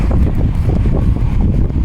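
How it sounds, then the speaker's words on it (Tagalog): Strong wind buffets the microphone outdoors in the Czech Republic with a steady low roar and gusty rumble, no voices present. "Ang lakas ng hangin."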